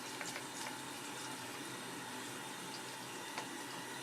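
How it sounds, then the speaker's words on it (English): Running water rinses soap out of a paint brush, making a faint, steady splashing wash with a few small drips and no voices. "And then you use the other side to rinse more of the soap out"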